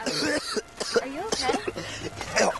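A man coughs several times in rough bursts, mixed with throat clearing, while another voice briefly speaks nearby.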